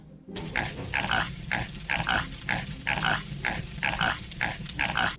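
A pig in the video game Evil Dead: Hail to the King, grunting in a steady run of about a dozen snorting oinks at an even pace over a low hum of game ambience, loud and close.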